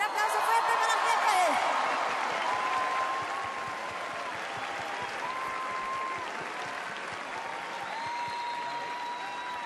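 Loud applause from a concert audience, swelling at first and then holding steady as a dense wash of clapping, with a few whoops and some musical tones running faintly beneath.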